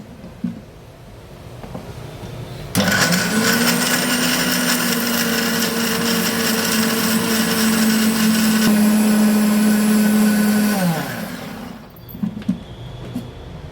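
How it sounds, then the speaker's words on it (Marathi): A kitchen mixer grinder whirs loudly for about eight seconds, grinding a spice paste with water and fenugreek for a pressure-cooker mutton recipe, starting abruptly and winding down at the end. "हे मिक्सरला लावून याची छान बारीक अशी पेस्ट तयार करून घेऊ."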